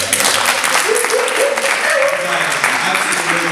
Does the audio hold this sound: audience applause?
yes